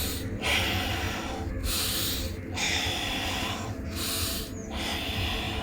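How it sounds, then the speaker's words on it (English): Rapid breathing exercise of quick forceful inhales and exhales through the nose, a dense rhythmic run of close, loud breath pulses with a few brief pauses and no talk. "Rapid breathing about 30 times, quick inhale and exhale."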